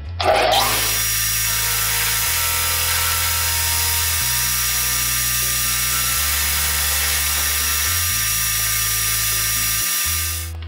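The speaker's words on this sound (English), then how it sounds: "I'm going to use a belt sander because this is aluminum" A belt sander deburrs a solid aluminum part for a sailboat mast step. It gives a loud, continuous high whine with a rough grinding edge, and its pitch steps up and down as pressure on the workpiece changes.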